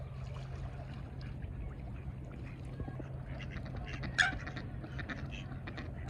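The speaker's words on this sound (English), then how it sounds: "Duck fight." Ducks scuffle and honk at a spot in Stockbridge. Scattered quacks and honks rise against a steady low hum, growing busier and sharper in the latter half with one louder squawk.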